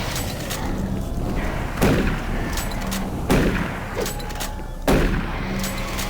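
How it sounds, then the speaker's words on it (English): Shotgun blasts in Doom 3, three heavy booming shots spaced about a second and a half apart over a dense, constant background of game noise. "I only have a shotgun this time."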